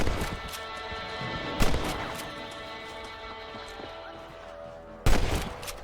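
Rifle shots ring out during a rabbit hunt in the video game Red Dead Redemption: two sharp, loud cracks a few seconds apart over quieter outdoor game ambience.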